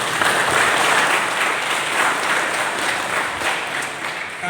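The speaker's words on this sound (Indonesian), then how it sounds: "Jadi tepuk tangan untuk nama sekolah kalian." A school audience of junior high students claps together in a lively burst of applause that holds steady and then tapers slightly, with no talking over it.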